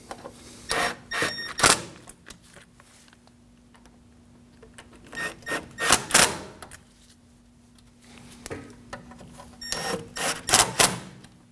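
Bolts on a 2009-2014 Ford F-150 front lower ball joint tightened with a ratchet, bursts of rapid clicking in three clusters separated by pauses, close and crisp over a faint steady hum.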